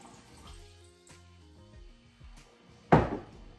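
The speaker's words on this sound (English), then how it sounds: "And my 2 cups of water." Two cups of water poured into a blender for a purple cabbage and berry smoothie, a short loud splashing gush near the end after a few quiet kitchen clinks.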